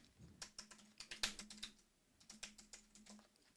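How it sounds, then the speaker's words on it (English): Fingers tapping out a run of keystrokes on a computer keyboard, crisp irregular clicks in two quick bursts with a short pause between, close and fairly quiet, no voices. "Let's type something else in here."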